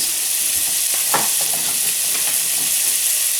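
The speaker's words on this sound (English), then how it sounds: "just give this a little stir. I want all those veggies to get coated in the oil" Thanksgiving leftover vegetables being stirred in hot oil in a pan, a steady loud sizzle with a few scraping stir strokes.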